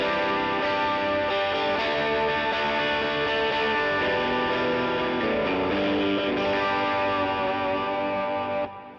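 A distorted electric guitar through an overdrive pedal with a boost engaged rings out in a sustained, saturated chord, loud and steady throughout, fading just at the very end.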